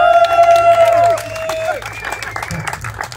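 An audience claps in steady applause at an outdoor volleyball event, with tonal music fading out over the first half and crowd noise continuing beneath.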